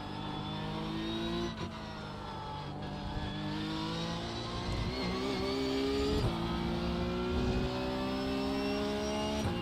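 A Porsche Cup race car engine pulls hard under acceleration, loud and close, its rising engine note climbing steadily through the gears with brief dips at shifts and no talk over it.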